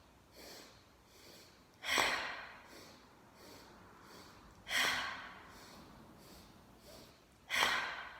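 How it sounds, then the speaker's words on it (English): Loud yogic breathing close to the mic: three strong, rhythmic breaths spaced about three seconds apart, with softer inhales and exhales between them, and no talking. "I'll do one without saying the inhales and the exhales, but just breathing loudly."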